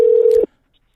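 A single short telephone ringback tone sounds while a call is placed, a steady clear pitch lasting under half a second before cutting off to silence.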